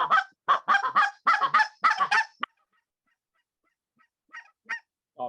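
Geese honk over a field during a goose hunt: a rapid run of loud, close honks in quick bursts, then a pause followed by a few fainter, scattered honks.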